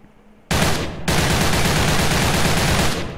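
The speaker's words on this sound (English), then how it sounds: "So let's go on and see the spread and the recoil for AK." An AK assault rifle in Soldier Front 2 fires a loud, rapid automatic burst, then pauses briefly before a longer continuous stream of close gunfire.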